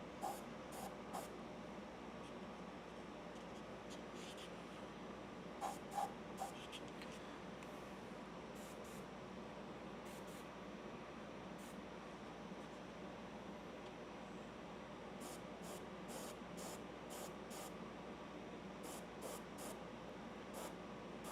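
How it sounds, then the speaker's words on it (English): Faint, steady hiss of an airbrush lightly spraying paint onto a Wonder Woman figure, with intermittent short bursts of spray standing out against a quiet room background. "Because I'm barely spraying anything. And I need to be spraying more."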